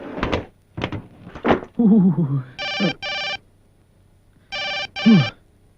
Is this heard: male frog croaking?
no